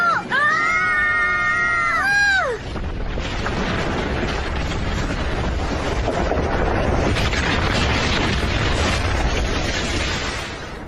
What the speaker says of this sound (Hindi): धमाका कैसे हुआ डोरेमोन?